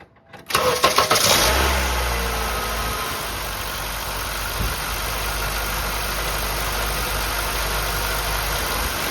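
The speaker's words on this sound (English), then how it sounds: "Let's start the car up and test our alternator." A Honda Civic engine cranks over briefly and catches, then settles into a steady, close idle with a faint high whine running under the running engine.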